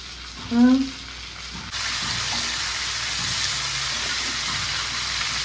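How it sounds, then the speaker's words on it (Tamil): Masala frying in a pan for mutton sukka, a steady hiss of sizzling that starts partway in and continues evenly, after a brief tonal sound at the beginning. "மட்டன் சுக்காவுக்கு வந்து நம்ம வந்து மசாலாலாம் வந்து வறுக்கணும்"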